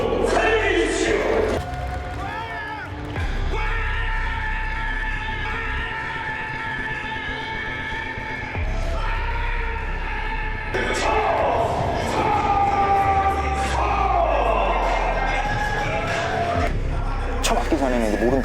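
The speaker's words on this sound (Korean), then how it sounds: "박수 사랑해 주십시오." A crowd at a fight event breaks into applause and cheering after an announcement, the clapping and shouts filling the room, with an amplified voice and echoing hall noise around them.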